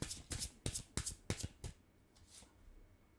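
A tarot card deck is shuffled in a series of about six quick, crisp riffling bursts, followed by a fainter rustle near the end, with no voices.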